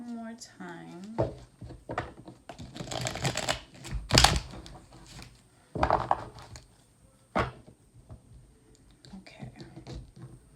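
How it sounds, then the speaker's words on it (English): A tarot card deck is shuffled close by in several crisp riffling bursts and soft slaps, with quiet speech between the shuffles. "Shuffle one more time."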